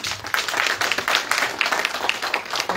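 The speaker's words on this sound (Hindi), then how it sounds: "जोरदार तालियों के साथ।" A crowd at a programme marking Shree Guru Ravidas's occasion breaks into dense, lively applause, with many overlapping hand claps forming a continuous, loud patter that lasts for nearly three seconds.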